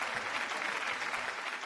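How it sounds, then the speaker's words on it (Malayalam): A short, dense burst of audience clapping fills the room, steady and moderately loud from start to end, with no voices over it. "ആഞ്ഞു കൈയടിച്ചേ."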